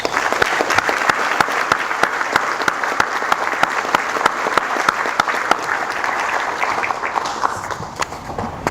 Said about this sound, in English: Everybody, please give them a round of applause.